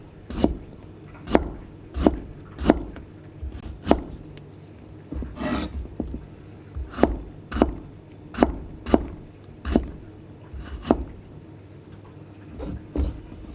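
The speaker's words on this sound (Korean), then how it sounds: "생강은요, 여러분 썰고 싶은 데 써주면 돼요" Ginger is cut into chunky pieces with a knife on a board, with about a dozen sharp, evenly spaced chops close by and a brief pause of softer rubbing partway through.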